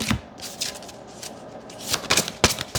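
A deck of oracle cards is shuffled by hand in irregular riffles and flutters, close and crisp, with papery slaps and a few louder bursts near the end, and no talk.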